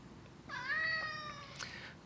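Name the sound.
cat meowing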